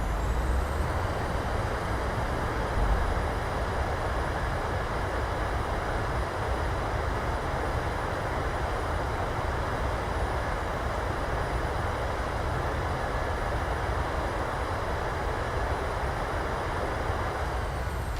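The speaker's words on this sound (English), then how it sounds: "Reversers, nose down gently." A Southwest airliner on the landing rollout in Microsoft Flight Simulator deploys its thrust reversers, giving a loud, unbroken engine roar that holds steady from start to finish with no voices.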